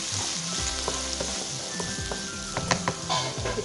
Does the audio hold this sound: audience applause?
no